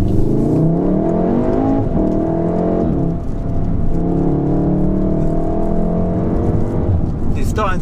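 Car driving on the road at a steady cruise, engine and road noise with gear-change sweeps, someone talking over it throughout.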